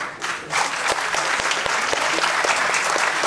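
Applause from the audience at a Tamil film audio launch, a dense, steady clatter of many hands that swells just after the start and holds loudly throughout.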